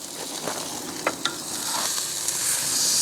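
A rib eye steak sears on a Weber Q gas grill with a steady, close sizzle. Scattered sharp pops and crackles come through a constant hiss, and no one speaks.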